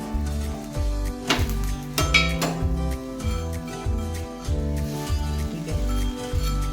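A spatula clinks and scrapes against a pan as a jowar and besan dhirde is flipped, a few sharp metallic taps over soft sizzling and background music.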